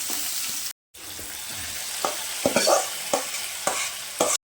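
Crushed garlic hits a frying tomato chutney with curry leaves, giving a steady sizzle broken by a brief gap, then repeated scraping stirs of a spoon against the pan, close and without speech.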